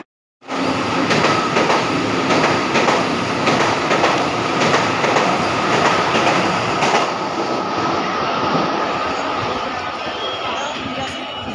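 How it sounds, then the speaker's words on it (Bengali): Kanchenjunga Express, a Sealdah to Silchar passenger train, pulling into a station platform: a loud, steady rumble of wheels and carriages with faint clatter, continuous from start to end. "এখন এখানে ঢুকছে কাঞ্চনজঙ্ঘা এক্সপ্রেস।"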